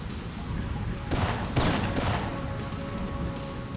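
Gunfire in the Syphon Filter video game: a dense burst of rapid shots around the middle of the short stretch, with repeated sharp reports over steady background game noise and no talk.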